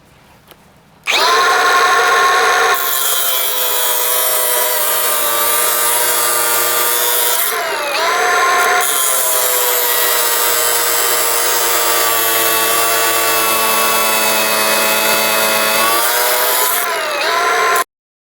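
A Milwaukee M18 grinder fitted with a 6-inch cutting wheel cuts through 1/2-inch rebar on a 5-amp battery. It makes a loud, sustained high-pitched whine that starts abruptly and dips briefly partway through.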